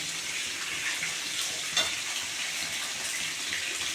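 Black cumin seeds temper in hot oil left over from frying pabda fish, making a steady, moderately quiet crackling sizzle throughout, close by and free of speech.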